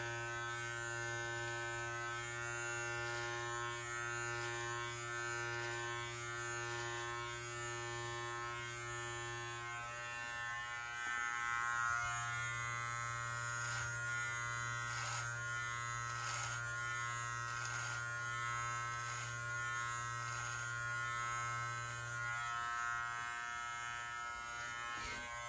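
A Live Bearded MT-1 beard trimmer buzzes steadily and close while it trims a medium-length beard, a constant electric drone that runs unbroken for the whole stretch with no talking.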